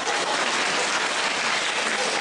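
Continuous, even applause from a seated audience at a question-and-answer gathering in Frankfurt, Germany, a loud, close wash of many hands clapping with no break.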